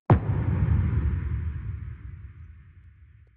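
A single booming hit of layered kick drums swells into a long, dark reverb tail with boosted low end that washes out and fades over a few seconds.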